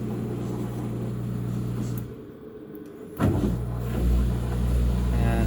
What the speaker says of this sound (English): so we're on our draining cycle now